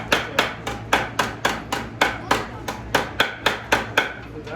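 Hammer pounding sheet metal to shape it in a bodywork shop, about fifteen sharp, close, evenly spaced blows in a quick steady rhythm.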